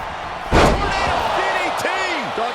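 A DDT slam in the WWE 2K25 wrestling video game lands as a sharp, loud impact, followed by steady crowd noise and a few echoing ring sounds.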